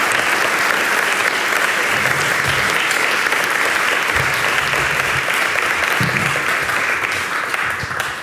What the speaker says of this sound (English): I want to have a round of applause for Elio, James, and Abdelkader at the table with me.